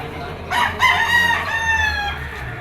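A yellow-legged bull stag gamecock at a market in Padre Garcia, Batangas lets out one loud, drawn-out crow close by, rising and then trailing off over a low murmur of background noise.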